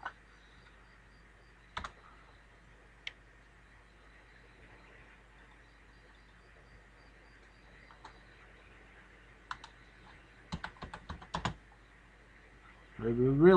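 Scattered keystrokes on a computer keyboard, a few isolated taps early on and then a quicker cluster of clicks, faint and close against a quiet room hum with no speech.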